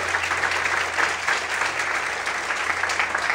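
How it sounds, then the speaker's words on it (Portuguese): Congregation in a church service bursts into stronger, sustained applause, many hands clapping in a thick even roar that holds steady throughout, nearby and alone without speech. "Mais fortes palmas, aleluia"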